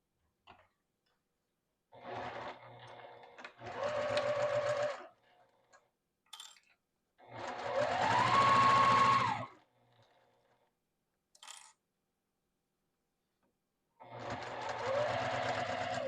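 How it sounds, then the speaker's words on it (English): A sewing machine stitches a 5/8 inch seam on a tote bag corner in several short whirring bursts separated by pauses, close and clear. "we're just gonna sew 5/8 inch down here"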